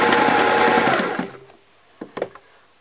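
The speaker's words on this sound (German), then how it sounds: "an den Anfängen und an den Enden des Fadens einmal vor und zurück zu gehen, damit die Naht auch wirklich fest ist." Sewing machine stitching a drawstring pouch seam, running loud and close in a fast whirring burst for about a second before stopping, followed by a few brief mechanical clicks as it reverses to lock the stitch.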